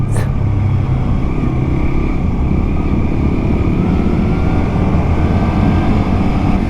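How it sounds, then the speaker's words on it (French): Motorcycles on a narrow village road in Baudinard-sur-Verdon, a loud, steady engine roar that echoes between walls, with a brief higher whine near the start as a bike passes close. "entendent passer les motos, ça résonne entre les murs toute la journée"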